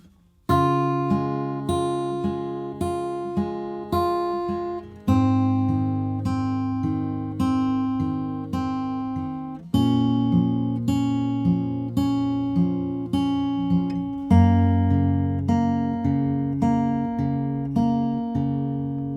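Acoustic guitar fingerpicks the main riff, a steady stream of plucked notes over a changing bass note every few seconds, clear and close with no voice.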